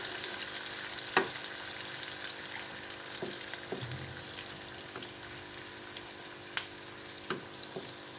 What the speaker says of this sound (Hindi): अब हम इसमें प्याज को ऐड कर देंगे और इसको भी अच्छी तरह से गोल्डन ब्राउन कर देंगे।